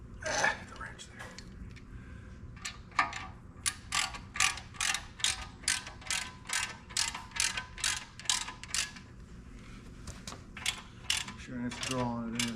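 A ratchet wrench clicks in a rapid steady run of loud, close strokes while fastening the flywheel housing on a David Brown 990 tractor, with brief pauses and mechanical knocks at the start and end.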